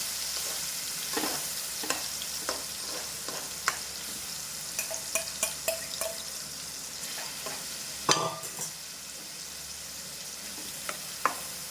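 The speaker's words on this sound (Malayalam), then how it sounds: "ഇത് നമ്മൾ ഫ്രൈ ചെയ്തെടുക്കല്ല, ജസ്റ്റ് ഒന്ന് മുരിച്ചെടുക്കുകയാണ്." Chicken pizza topping being lightly sautéed in a pan, with a soft steady sizzle under repeated sharp clicks and scrapes of a utensil stirring, one louder clatter near the end.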